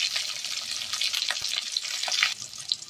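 Ginger and garlic frying in a pan, a close, bright sizzle with scattered pops and crackles, steady and fairly loud with no speech.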